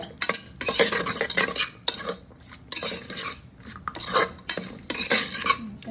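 A spoon scrapes and clinks against a pan while curry is stirred, bursts of metallic scraping in an uneven rhythm with brief gaps, close and fairly loud, no voices.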